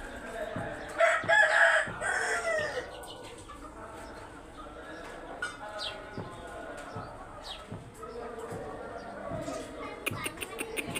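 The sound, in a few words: Pahari breed rooster crowing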